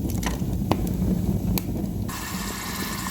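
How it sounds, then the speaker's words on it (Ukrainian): Pork fat sizzling in a pan as it renders down into lard, a steady close crackle and hiss with scattered pops, continuous for the whole stretch. "Він же шипить."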